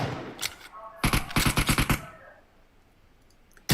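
Gunfire in the PUBG Mobile video game: a short burst, then a rapid string of about eight sharp automatic shots close by, a lull, and one more loud crack at the end, with brief talk at the start.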